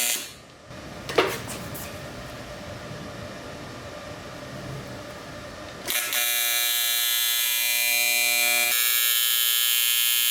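A welder tack-welds an intercooler bracket on a right-hand-drive Nissan Cefiro with a K24 swap, using rod. After a few seconds of quiet shop noise, a steady, close electric buzz starts and holds to the end.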